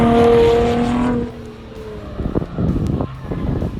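A 1976 Chevy Camaro drives a warm-up lap on a race track, its engine note loud and sustained for a second before dropping back, then sputtering and burbling closer with rough pops.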